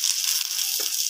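Masala and onion fry in oil over a low gas flame for a spicy brinjal masala bhaji, giving a steady, soft sizzling hiss that runs unbroken throughout.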